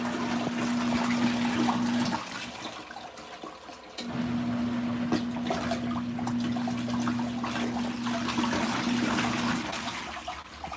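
An LG ThinQ MEGA Ultimate washer runs a light-soil, five-minute wash cycle on semi-cold, with continuous rushing and splashing water, a steady low hum and a short dip in the middle.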